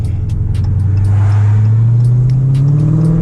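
A 2023 Dodge Challenger Scat Pack 392 Widebody's deep, throaty V8 engine rumbles close by and revs up gradually, pitch rising steadily over a few seconds.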